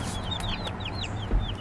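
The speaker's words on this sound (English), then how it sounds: "she said, my loud chickens are here." Many small meat chicken chicks peep close by in high, rapid, repeated chirps over a low background rumble, just after arrival.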